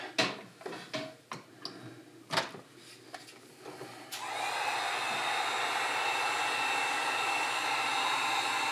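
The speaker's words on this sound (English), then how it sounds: "Gonna take the heat gun again. I'm gonna blast this guy real quick." Heat gun blasting air over wet pinstriping paint, starting midway as a steady loud rushing whoosh after several sharp handling clicks and taps.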